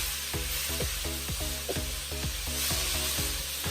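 Tomatoes and green peppers simmer in a pan over medium to low heat, a soft steady sizzle broken by regular scraping strokes of a spoon stirring the mixture, close and fairly quiet, with no talking.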